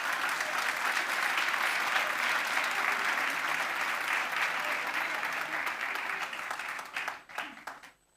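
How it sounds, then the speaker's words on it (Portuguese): A church congregation in Lisbon applauds during a sermon, dense clapping that holds steady for several seconds, then thins into a few scattered claps and fades. "Aplauda o Senhor."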